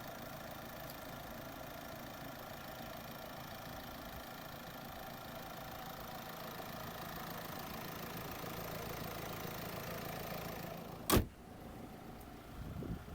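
A 2020 Mercedes-Benz C300d AMG Line's 2-litre inline four-cylinder diesel idles steadily with an even, unbroken drone, broken near the end by a single sharp click.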